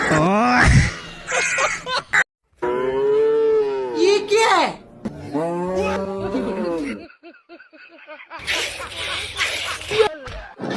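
Cattle mooing in a Bengali village setting: several long, loud, drawn-out moos with rising and falling tone, close to the listener, broken by short gaps and a burst of human laughter and voices.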